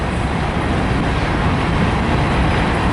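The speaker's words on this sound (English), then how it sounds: "at least I caught a train" A Union Pacific ES44AC locomotive leads a freight train through downtown El Paso, Texas, giving a steady, loud broadband rumble and roar that fills the whole stretch with no break and no talk.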